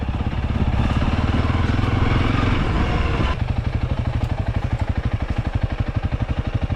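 A motorbike on a rough, bumpy road section during a tour near El Nido in the Philippines, its engine chugging loudly and steadily close by, the pulsing rhythm quickening after a brief shift midway, with rattling from the bumps.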